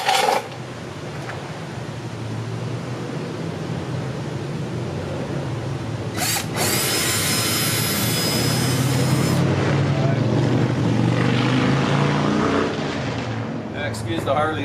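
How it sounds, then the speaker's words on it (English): Harley-Davidson motorcycles rip past on a spring street, engine roar swelling and fading as they pass, heard at moderate distance with a brief sharp high whine in the middle. "Excuse the Harleys ripping by, but it's springtime."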